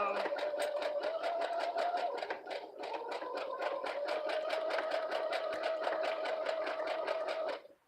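A sewing machine stitching a fabric pouch, its rapid regular needle clatter running steadily over a motor hum, close and loud, with one brief slowdown partway through.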